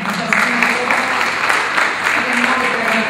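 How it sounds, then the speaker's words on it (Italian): An audience at a local award ceremony in Castiglione applauds in remembrance, a dense, continuous wash of clapping hands from a crowd, with a faint voice or tone underneath. "Quindi con un applauso ricordiamo"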